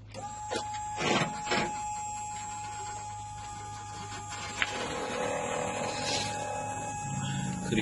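Motorized jack mechanism of a hidden cigarette compartment in a vehicle running with a steady electric whine and hum, starting with a few clicks and thumps, then droning on evenly at moderate level.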